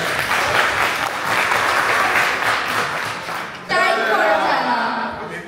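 Audience applause for a Bangladeshi community gathering at a newcomers' programme in Lappeenranta, Finland: a dense, sustained wash of clapping that drops briefly near the end and then swells again, with a little chatter mixed in.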